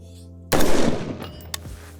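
A single loud gunshot from a DPMS Kitty Kat with a 7-inch barrel, fired at an outdoor range toward a target about 150 yards out, cracks sharply and then rings off into a decaying echo.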